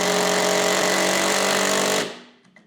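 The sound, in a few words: Würth M-Cube 18V impact driver driving screw, speed setting 2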